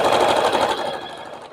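A sewing machine stitches a quilt block for a baking-themed border, running a steady, close mechanical whir that holds for most of the clip and eases slightly at the end, with no talking.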